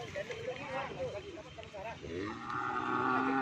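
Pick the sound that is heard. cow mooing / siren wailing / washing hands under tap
cow mooing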